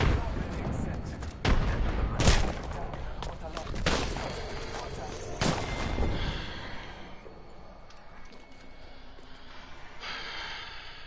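Gunfire and grenade explosions in a first-person shooter game, several sharp loud blasts spaced irregularly over the first half, then quieter shots and rumble, with a player's breathing and voice mixed in.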